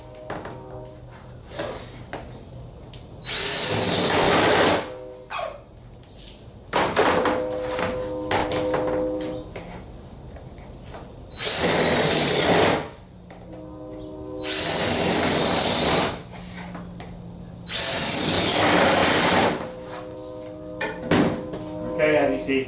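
A power drill bores roughly one-inch ventilation holes through plastic in four loud, whining bursts, separated by talking and small clattering handling sounds.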